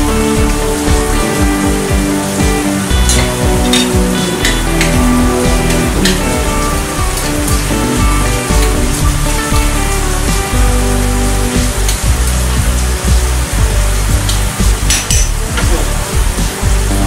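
Water bubbling at a boil in a pot with a squeeze of lemon added, a steady close, dense fizzing and bubbling with faint clinks, continuing without pause.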